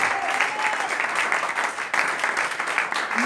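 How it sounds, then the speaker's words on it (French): A church congregation claps loudly and cheers at a pastor's request, with dense, continuous applause filling the room and a brief dip near the middle before it picks up again. "Et si tu entends, tu peux acclamer et acclamer très fort."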